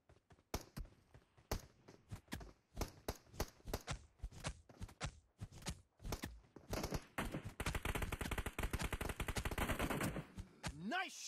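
Pistol gunfire in a shooter video game against bots, with rapid cracking shots, first spaced irregularly and then in a dense, fast volley, loud and close.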